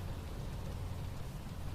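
Steady rain pours in a dense, even hiss with no breaks, moderately loud and without any voices.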